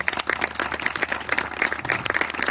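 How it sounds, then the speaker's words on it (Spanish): A church congregation applauds a couple, a dense, steady patter of many hands clapping at close range with no talk over it. "denle un fuerte aplauso por la vida de esta pareja"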